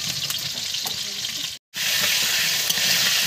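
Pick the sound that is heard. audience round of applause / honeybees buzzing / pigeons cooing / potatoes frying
potatoes frying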